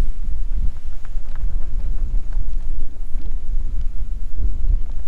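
Gusty wind roars across an open bison ranch on a windy autumn day, a close, continuous low buffeting that swells and dips with no speech.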